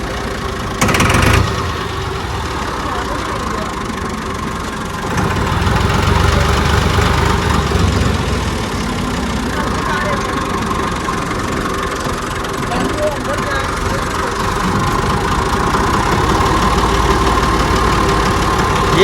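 A tractor engine idles steadily and loudly during wheat harvesting, a continuous low rumble filling the whole stretch, with a brief knock near the start.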